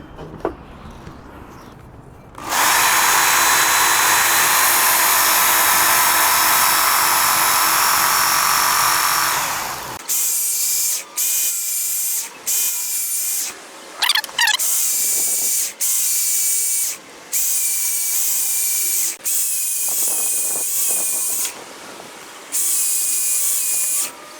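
A Work Sharp Ken Onion electric sharpener grinds garden tools such as a shovel, axe or hatchet, first in one long loud whine, then in a string of short, evenly spaced grinding passes with brief pauses between them.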